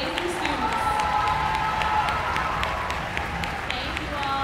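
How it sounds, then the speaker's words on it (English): Applause and cheering from a concert audience at a high school music festival, a dense continuous wash of clapping with voices and whoops mixed in, steady and fairly loud throughout. "Another round of applause for these amazing students."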